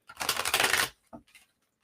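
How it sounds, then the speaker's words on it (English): A deck of playing cards riffles in one quick, dense burst, followed by a couple of soft card taps and flicks close by. "That's so funny how this card flew as I was trying to shuffle."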